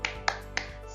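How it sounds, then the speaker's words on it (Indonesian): Three sharp, evenly spaced claps of a classroom 'tepuk semangat' spirit clap, close and fairly quiet, each a crisp single slap with nothing else around it. "mari kita tepuk semangat"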